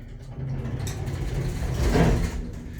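Vintage Otis black-button traction elevator with manual doors at a Denver condo building, heard from inside the car: a steady low mechanical rumble and hum that swells into a louder whir around the middle as the car starts moving, with no talk.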